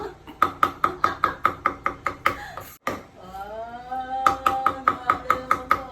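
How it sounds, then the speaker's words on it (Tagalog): A knife chops garlic on a cutting board in fast, even, close taps. The chopping stops briefly in the middle while a voice hums a sustained tone, then picks up again at the same quick rhythm. "Chop na natin yung ating garlic."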